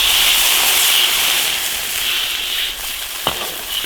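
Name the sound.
water added to hot wok with chili paste, sizzling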